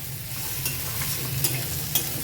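Vegetables frying in a pan for a prawn and jute-leaf chorchori, with a steady close sizzle and a few scraping stirs of a spatula running through it, no voices.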